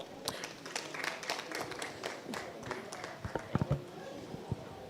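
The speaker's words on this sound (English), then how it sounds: "Please put your hands together as we make welcome Dr." A workshop audience claps to welcome a speaker, scattered hand claps rising over a steady crowd murmur, with a few louder sharp claps near the end.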